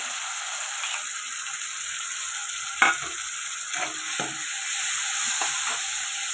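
Tomato puree fries in a pan for kanaganthalu fish curry, giving a continuous bright sizzle with a few utensil knocks and stirring scrapes scattered through it, close and fairly loud.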